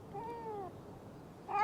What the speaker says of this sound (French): on va aller chercher ton chat dans cet arbre